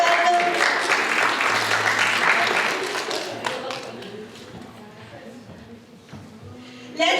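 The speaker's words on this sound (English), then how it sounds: "Let's give a big round of applause" An audience applauding at an International Mother Language Day event, sustained clapping that is loudest early and gradually thins out, with people talking over it.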